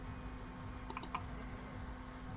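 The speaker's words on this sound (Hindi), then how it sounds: "इस पर हम क्लिक कर लेंगे" A few faint computer mouse clicks, two or three quick taps close together, over a steady hum while applying online for a private tubewell electricity connection.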